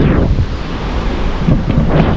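Continuous roar of a waterfall's rushing, crashing water near Puente, Lima, with wind buffeting the microphone, loud and steady without letup.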